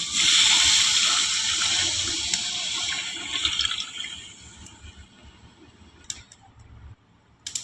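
Water rushes loudly into a cooking pot of chicken, then tapers to a softer trickle with a few small clinks near the end.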